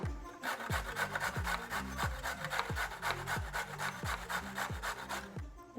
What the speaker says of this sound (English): Take our carrots, I'm gonna take our grater.